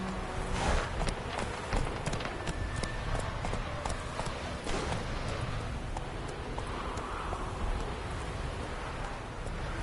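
Hooves of a ridden horse clip-clopping in a quick, steady rhythm, close and fairly loud over a noisy background, with no talking.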